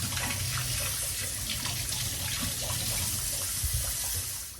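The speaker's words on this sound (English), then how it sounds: "And wash my hands, I guess." Running tap water pours steadily into a sink while hands are washed, a continuous close splashing hiss with no talking.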